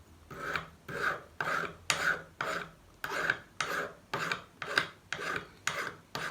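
Handmade medieval metal needle held in small pliers is filed smooth with a rasping file, about a dozen even back-and-forth strokes in a steady rhythm, close and fairly quiet.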